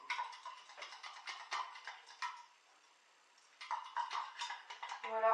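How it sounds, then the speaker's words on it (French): Brioche dough stirred in a bowl, quick rhythmic ticking and tapping strokes with a short pause midway, fairly soft and close. "On vient bien mélanger."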